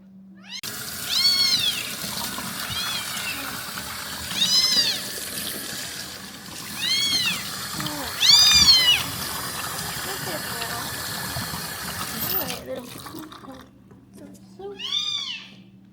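A tiny rescued kitten meows loudly and repeatedly during a flea bath, high cries breaking through the steady rush of running water, with a person talking throughout.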